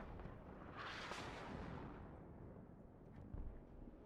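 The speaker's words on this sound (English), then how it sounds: "Artillery dealing some damage." Artillery fire in the real-time strategy game Warno rumbles as a faint, distant, muffled boom with a broad swell of noise, followed by a smaller thud near the end.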